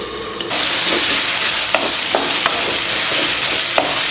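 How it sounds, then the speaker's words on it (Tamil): Tomatoes sizzle and fry in a pan for bottle gourd curry, a constant loud hiss with several short scraping stirs of a spoon, close and alone without voices. "இன்னும் கொஞ்சம் நேரம் வதக்கிக்கலாம். தக்காளி கொஞ்சம் வதங்கணும், அதனால மறுபடியும் மூடி வச்சிடும்."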